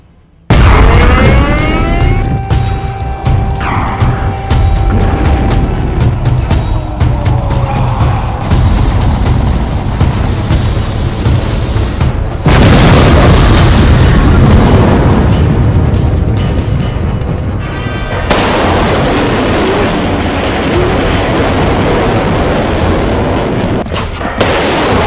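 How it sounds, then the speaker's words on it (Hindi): Bombs and missiles strike during the Russia-Ukraine war, loud booming blasts and rumbling bursts following one another close by across the whole stretch, with heavy low roar between them. "बम के गोले बरसाए जा रहे हैं, मिसाइलें दागी जा रही हैं।"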